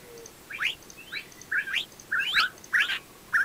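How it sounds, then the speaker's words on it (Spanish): A parrot in the Minecraft video game gives about seven short, bright chirps at a steady, evenly spaced rhythm, clear and alone. "Y vamos a ver a un loro."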